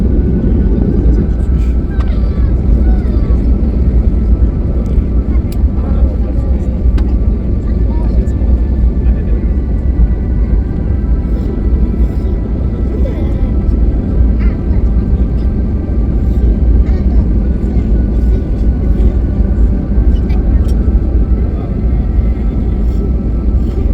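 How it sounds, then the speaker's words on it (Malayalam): A steady, loud low roar of airplane engines drones on without a break as the plane descends with landing gear down, a deep continuous rumble with faint clicks above it. "ഫ്ലൈറ്റ് താഴ്ന്നുകൊണ്ടിരിക്കുകയാണ്. ലാൻഡിങ് ഗിയർ ഇട്ട് കഴിഞ്ഞു."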